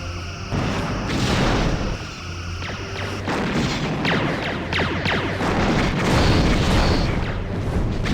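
Weapons fire and explosions in the Star Trek Bridge Commander space combat game, with forward torpedoes launching: dense, continuous booming blasts and rumbling impacts layered over a steady low drone, loud throughout the whole stretch with no voices.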